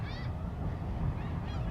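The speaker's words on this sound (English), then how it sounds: "Nope, just seagulls," Seagulls calling near Fulton Harbor on the Rockport–Fulton waterfront, with a couple of short bird cries at the start and end over steady outdoor rumble.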